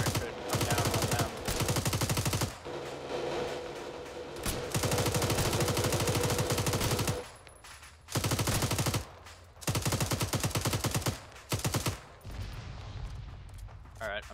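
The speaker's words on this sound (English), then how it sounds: "there's something shooting at us" Machine-gun fire in the video game Arma 3 rattles in long, loud automatic bursts broken by short pauses, close and intense, with voices speaking faintly in between.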